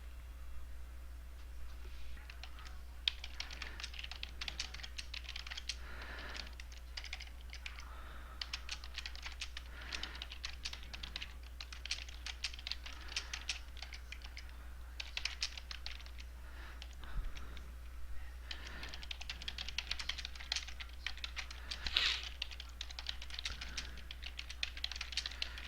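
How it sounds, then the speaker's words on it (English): Quiet, steady typing on a computer keyboard, a continuous patter of light key taps over a low electrical hum, with no talking. "Down here is where you type in the answers."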